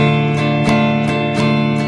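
Guitar strummed down and up in a swung rhythm, several loud, close strokes of a sustained chord ringing out with regular accents and no voice.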